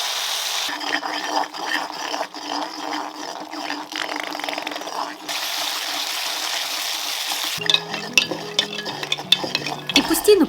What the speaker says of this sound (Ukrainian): помішуючи, вливаємо кисло-солодку суміш